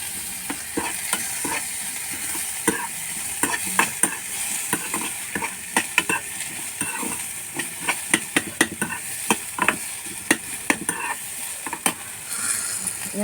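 Onions and fried fish stir-fried in oil in a pan, a steady sizzle under repeated sharp scraping clicks of a spatula against the pan, close and fairly loud throughout, with no talking.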